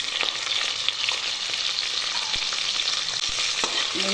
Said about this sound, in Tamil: நம்ம இந்த வெங்காயத்தையும் போட்டுருவோம்.